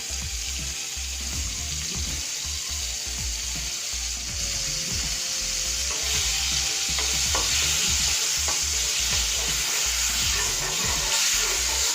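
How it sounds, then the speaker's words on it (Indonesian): Rambeu fish fries in margarine in a Teflon pan, giving a steady, close, moderately loud sizzle throughout, with soft spatula stirring clicks scattered across it. "proses pemanggangan di teflon. Masukkan, tambahkan margarin. Kita masukkan ikannya."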